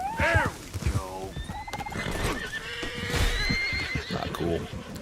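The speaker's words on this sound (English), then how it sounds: "One of the stallions is loose." A loose stallion in Red Dead Redemption 2 whinnies loudly and repeatedly, with clip-clopping hooves and shuffling movement beneath, while someone talks over part of it.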